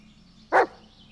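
A single short dog bark from the dog companion in the Blair Witch video game, set in the woods; one sharp, fairly close yelp standing out against quiet ambient background.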